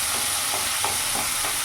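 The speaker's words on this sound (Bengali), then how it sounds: "ভালো করে নাড়াচাড়া করে নেবো।" Chopped onions frying in a pan are stirred around, soft scraping strokes repeating every half second or so over a low steady sizzle, close by and with no talk.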